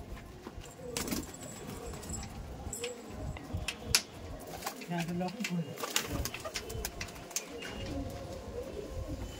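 Low coos from Sulemani Kagzi pigeons sound in the middle, soft and close, amid clicks, shuffling and faint voices.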